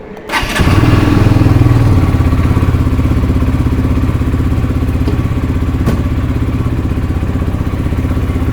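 A motorcycle on its center stand starts up and settles into a loud, steady idle, the engine thumping evenly and close by with a faint rattle throughout.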